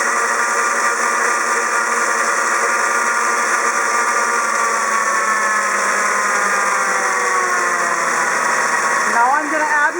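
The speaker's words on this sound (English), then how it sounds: "This is with our blender as high as it goes, so it does get fairly loud in here." An Ankarsrum Assistent blender runs at its highest speed, a loud, steady whirring whine that fills the full ten seconds with little change, shifting slightly in pitch near the end.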